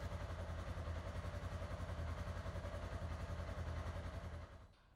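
A Polaris RZR XP side-by-side engine idling steadily with a low, even pulsing clatter, close and alone, before cutting off at the very end.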